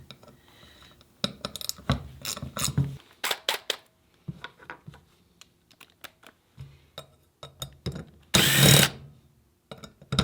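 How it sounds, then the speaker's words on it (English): Small hand wrench working loose the rear wheel bolts on a Honda CBR800 V4 motorcycle, with sharp clicks and metallic ratcheting bursts that come in irregular clusters, close and fairly loud. "Now I'm gonna break it loose with this little wrench here"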